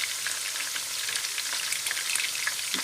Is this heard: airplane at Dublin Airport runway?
no